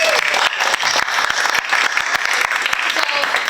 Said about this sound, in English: clap it up for Katie.